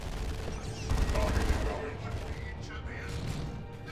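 Terminator assault cannons in Dawn of War 2 fire a rapid, loud, rattling burst that fades into scattered shots and blasts, with a voice commenting over the battle.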